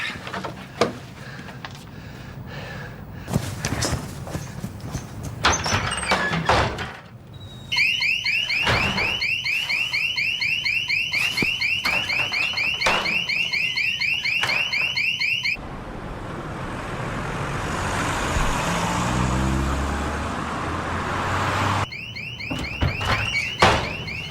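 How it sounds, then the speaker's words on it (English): A car alarm blares in a loud, repeating electronic pattern, cutting out briefly and returning, with door clunks and rustling around it. "Set the alarm off."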